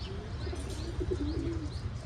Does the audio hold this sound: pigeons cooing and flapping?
yes